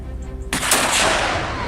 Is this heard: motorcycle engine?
no